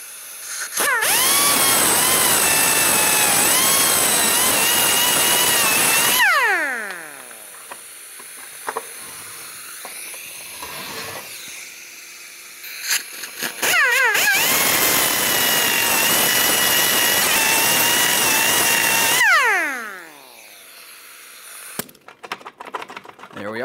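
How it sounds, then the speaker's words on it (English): An air-powered cutoff wheel slices through exhaust heat shield bolt heads on a 2012-2018 Nissan Altima manifold, two long loud shrieking cuts that spin down with falling whines, separated by quieter clatter. "I'm just going to use a cutoff wheel. I'll cut off the heads and then remove the shield from the manifold assembly."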